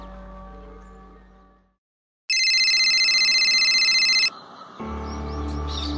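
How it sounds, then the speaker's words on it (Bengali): A telephone ringtone sounds during a call in a radio drama, a loud steady electronic ring lasting about two seconds after a brief hush, then giving way to a lower tone. "আমি এখনই ফোন করছি"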